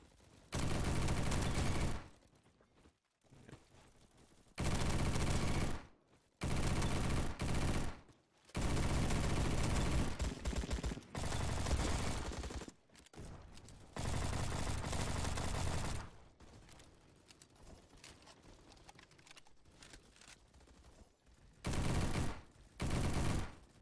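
Loud bursts of automatic gunfire from the Roblox shooter game Bad Business, repeated in several long volleys separated by short quiet gaps.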